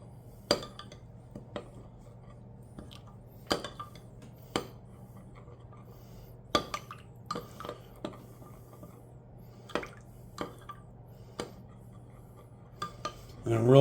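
Honey, soy sauce, rice wine vinegar and red pepper flakes being stirred in a bowl: scattered light clinks and taps of a utensil against the bowl, irregular and close, over a faint steady hum.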